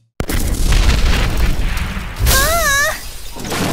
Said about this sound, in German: Er ist ein bisschen explodiert.